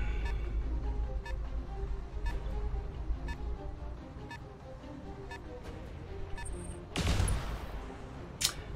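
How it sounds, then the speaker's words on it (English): Weapons fire from mechs in the BattleTech video game: repeated sharp shots at a steady rhythm over a rumbling battle bed, ending in a loud burst of blasts near the end. "Firing on target."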